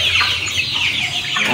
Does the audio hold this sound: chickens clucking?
yes